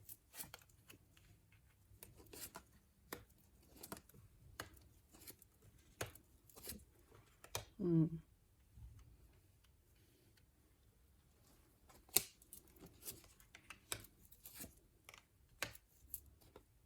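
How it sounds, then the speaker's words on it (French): Tarot cards being drawn from a deck and laid out, heard as faint, sparse card clicks and soft shuffling taps at an irregular pace in a quiet room, with one louder rustle partway through. "Alors, je vais tirer les cartes."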